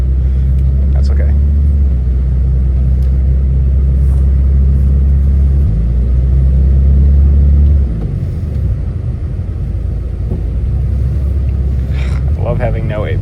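A Mitsubishi Eclipse, out in 5°F cold and driven for the first time in six years, hums with a steady, close low engine drone from inside the cabin. The drone shifts and settles lower partway through, and a voice is faintly present.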